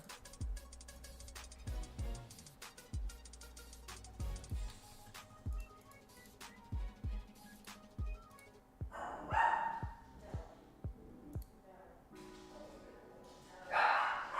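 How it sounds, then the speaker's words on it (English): Dogs bark repeatedly in short bursts, fairly near and loud, against steady background music, with a couple of louder noisy bursts later on. "Well, there are the dogs."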